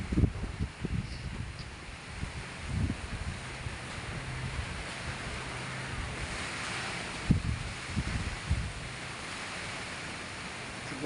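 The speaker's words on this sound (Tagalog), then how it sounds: "Lakas ng hangin guys." Strong typhoon wind during a storm in the Philippines, a steady loud broadband roar with gusty swells and low rumbling buffets on the microphone, continuous throughout with no talking.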